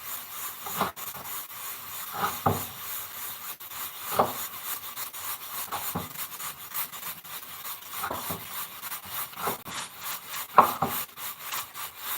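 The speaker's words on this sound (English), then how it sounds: "I am chopping with the right hand, but it shows left." Knife chopping vegetables by hand in a home kitchen, a steady run of soft, close scraping and cutting strokes with occasional sharper taps on the board, fairly quiet and without talk.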